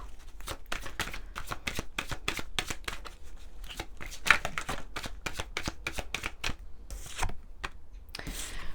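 Oracle cards from a mirror oracle deck are shuffled by hand in a steady run of crisp, rapid riffling flutters, close and fairly quiet, with a few brief pauses and a louder slap near the end.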